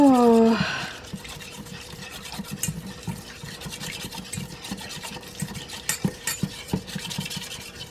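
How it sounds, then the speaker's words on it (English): Rapid scraping and clinking of a whisk mixing stir-fry sauce in a bowl, steady rhythmic strokes after a brief voice at the start. "we're going to mix our sauce here up with our little whisk"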